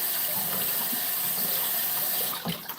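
Water drains from rinsed grapes in a kitchen drainer, a steady close hiss of running, splashing water that breaks up into a few gurgles near the end.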